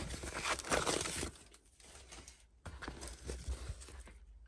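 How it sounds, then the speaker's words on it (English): Crumpled paper stuffing pulled out of a Coach Pillow Madison handbag, giving close, continuous crinkling and rustling in bursts, loudest at the start and quieter after a short lull. "and then take off all this paper right here."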